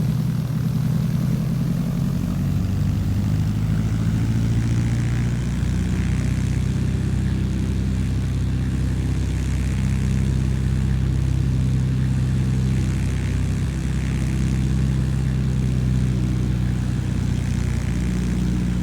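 An L19 Bird Dog propeller plane cruises in flight simulator MSFS2020, a constant droning engine and propeller hum, steady and loud with a slight throbbing beat throughout.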